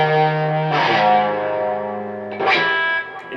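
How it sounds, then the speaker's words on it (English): Sustained electric guitar notes played on the bridge pickup with a distorted tone, swelling with echoing delay and reverb tails; a new note is struck partway through. "I switch back up to the bridge pickup, and I'm turning back on my delay and reverb."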